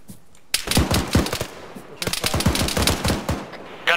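Rapid bursts of automatic gunfire in a military video game, aimed at a DShK heavy machine gunner, with loud repeated shots in two clusters separated by a short pause.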